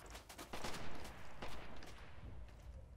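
Gunfire in the World War II video game Red Orchestra 2 during a snowy battle: a quick cluster of faint, distant shots crackling over a low rumbling background.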